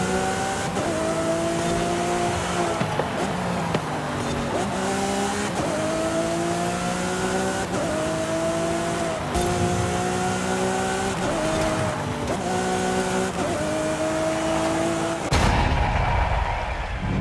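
A Lamborghini Aventador SVJ engine howls in a Forza Horizon 5 race, with a loud, sustained high-revving tone rising through repeated gear shifts and dropping off near the end, with no talking.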